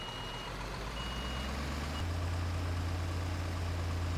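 A flatbed truck with a crane drives in Construction Simulator, its steady mid-pitched engine drone rising a step in pitch and loudness partway through, with a faint high electronic tone heard above it and no talk.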